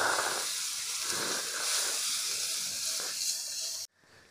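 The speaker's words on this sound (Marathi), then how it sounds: "आता हे आपण 2 मिनिटांसाठी परतून घ्यायचं आहे।" Garlic, chili, ginger and cumin paste sautéing in a pan for methi vadi gives a steady close hiss and sizzle, then cuts off sharply near the end.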